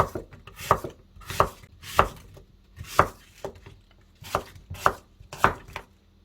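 A knife slices through firm fruit onto a cutting board, about eight crisp thuds at a steady, unhurried pace, close up with no talking.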